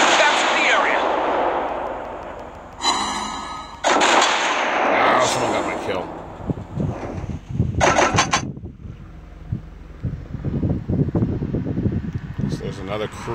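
Naval guns and torpedoes fire in a warship battle game, heavy booming blasts and bursts of rapid rattling fire scattered over the stretch, loud and close, with a player talking between and over them.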